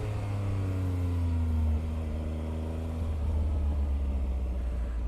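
A 2019 Triumph Speed Triple RS sport motorcycle engine runs loud and close, a steady deep rumble with a rising then falling rev in the middle, no talking over it.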